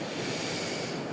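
Ocean surf breaking steadily on the shore near Santiago de Compostela, a continuous loud wash of waves with wind noise across the whole moment, no voices.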